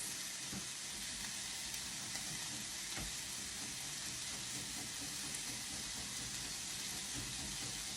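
Garlic fries and sizzles in a pan while being stirred, a steady, close hiss with occasional faint scrapes and soft taps of the utensil, with no talk.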